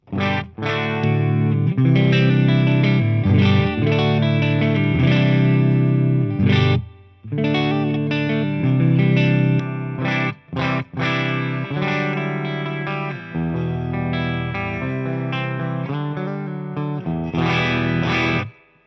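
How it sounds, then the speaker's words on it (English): Electric guitar playing chords and single notes through a Marshall TSL 100 JCM 2000 amp, miked with an SM57, with a lingering, splashy spring reverb tail from the amp ringing after each strum, loud and close. "So that is a spring reverb that comes on the amp, which is actually pretty good."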